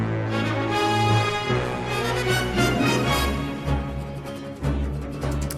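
An intro from the video game Super Mario Galaxy in D flat major, an orchestral melody with rich chords and pulsing low bass swells, continuous and fairly loud with no voices.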